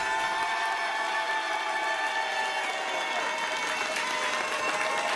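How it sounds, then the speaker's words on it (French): Continuous, dense audience applause fills the room for a scream contestant at a film-themed event, steady and even in loudness throughout with no voice over it. "Vous applaudissez juste, il ne crie plus."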